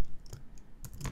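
Keys on a computer keyboard are tapped while typing a command, giving a few quick, close clicks in short uneven bursts over a quiet background.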